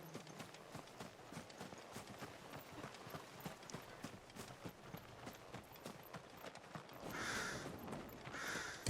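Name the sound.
crows cawing, from the video game Final Fantasy XVI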